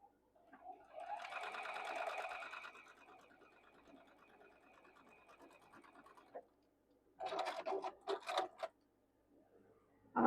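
Sewing machine stitching quilt block fabric, with a steady buzzing run of several seconds, a pause, then a short burst of quicker, choppy stitching, all fairly quiet and without talk.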